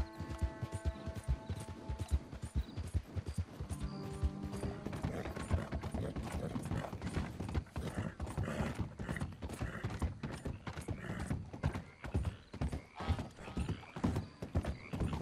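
A horse's hooves clip-clop steadily in the video game Red Dead Redemption, a quick regular rhythm under a bed of music-like tones, with mechanical clicking and an occasional whinny.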